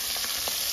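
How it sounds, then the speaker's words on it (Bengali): Large river fish frying in a pan at home, a dense, steady hiss of sizzling oil with small splattering pops, close and continuous, with no talk. "আমি শুনেছি এই মাছ ফোটে অনেক।"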